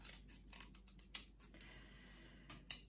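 Scissors snip through paper or card in a short run of light, crisp cuts, close and fairly quiet, with small handling rustles between them and no talking.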